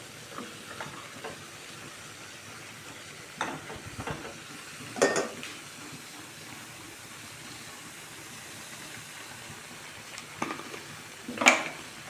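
Cauliflower cooking in a pan with onion and tomato: a soft, low sizzle underneath, broken by several short scraping clatters of a spoon stirring, spaced irregularly and close by, without talking.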